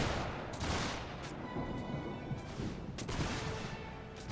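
Musket volleys ring out in a Mount & Blade Warband battle set in the 1776 American Revolution, with dense overlapping reports and several sharper bursts among them over a constant rumble of battlefield noise.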